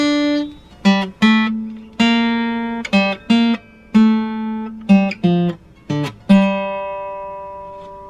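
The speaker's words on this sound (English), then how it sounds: "We'll play the guitar melody without a capo." Solo guitar plays the melody from a Gladiator soundtrack piece without a capo, clean plucked notes in a slow phrase with sustained tones and short pauses, close and alone.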